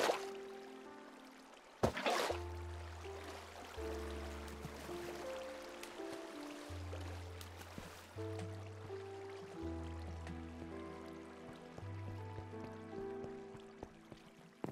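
Water being placed in the Minecraft video game, a faint trickling and pouring flow with a sharp splash early on, set against quiet background music tones.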